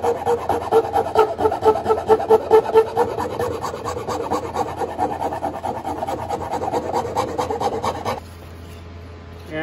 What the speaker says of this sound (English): You can take our rasps.